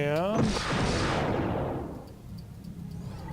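Weapon salvos firing in the space combat game SFC:OP, a loud burst of layered blasts that swells and then fades away, following a brief voice at the start.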